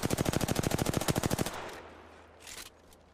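A fast, steady burst of automatic weapon fire in Apex Legends, about twenty evenly spaced loud shots over a second and a half, then faint rustling and a short whoosh.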